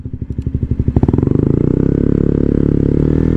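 A 125cc motorcycle engine idles with a loud, rapid pulsing beat, then revs up into a fast, continuous, buzzing drone, close and alone without talk.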